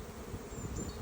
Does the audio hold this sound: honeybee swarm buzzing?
yes